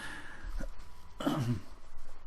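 A single short cough or throat clear, close and fairly loud, with quiet room noise before and after.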